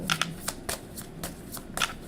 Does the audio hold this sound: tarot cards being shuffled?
yes